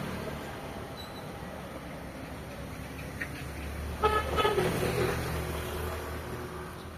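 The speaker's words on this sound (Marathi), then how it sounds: "ट्रॅफिक आहे पुण्यामध्ये." Busy street traffic in Pune: a steady background rumble of vehicles with a short burst of several car horns tooting near the middle, then the general road noise continues.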